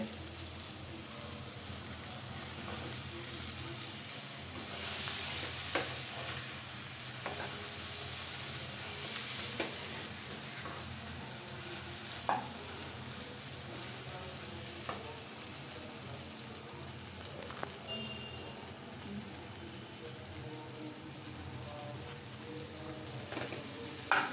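Carambola (star fruit) being fried and stirred with spices in a pan for a pickle, a steady quiet sizzle with scattered light clicks and scrapes of stirring throughout.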